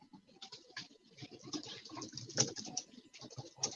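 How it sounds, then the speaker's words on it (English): Rapid clicking of keys on a computer keyboard, an uneven run of close, crisp taps with a few louder strikes, no talking. "And I will wait till you finish typing before I start recording."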